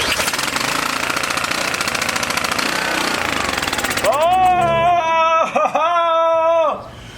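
A small engine with a carburetor problem sputters and chatters loudly for about four seconds, then cuts out and dies, followed by tonal, voice-like sounds.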